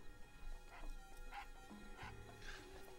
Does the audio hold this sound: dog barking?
yes